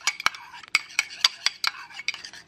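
A spoon stirs a salmon burger sauce of light mayo, lemon, salt, pepper and basil in a bowl, giving about a dozen quick, close metallic clinks and scrapes in an uneven rhythm, alone with no talk.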